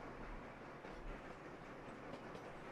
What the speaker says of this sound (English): we'll hit play and let the passenger train do its thing